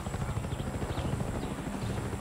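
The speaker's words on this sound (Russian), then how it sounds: "Вертолет." A helicopter flies overhead in the video game Far Cry 6, giving a steady, dense low rotor rumble that stays constant throughout without any talking.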